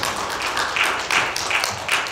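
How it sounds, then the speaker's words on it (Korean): A church congregation claps to welcome a visiting missionary to the front, steady handclaps with rhythmic accents building in bursts, close and fairly loud. "이제 폴 선교사님 올라오실 때에 여러분들 큰 박수로 환영해 주시면 감사하겠습니다"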